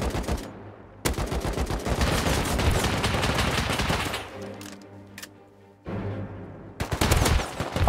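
Rapid bursts of gunfire in the survival game Rust, loud and close, with dense automatic volleys broken by a brief lull and a few isolated shots before firing resumes.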